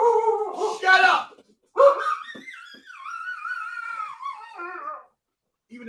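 Dogs barking and yipping close by in several sharp bursts, followed by a drawn-out, wavering whine or howl that trails off.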